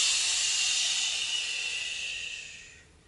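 A single long, breathy exhale from a person during a yoga breathing exercise, a steady airy hiss that holds for nearly three seconds and then tapers off to quiet.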